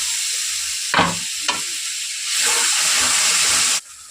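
Water poured into a hot pan of turmeric and spices, a sharp hiss erupting with brief bursts and then a loud steady sizzle that cuts off abruptly.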